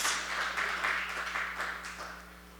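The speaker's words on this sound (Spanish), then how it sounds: "démosle un fuerte aplauso a Jesús" A congregation applauds during a Spanish-language church sermon, a sustained wash of many hands clapping together, steady and moderately loud before slowly fading.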